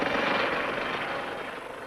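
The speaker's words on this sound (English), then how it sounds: "The helicopter at sea is far more than just a pair of airborne eyes." A Royal Navy helicopter at sea drones steadily overhead, a loud continuous rotor and engine roar that holds evenly and eases slightly toward the end, with no voices.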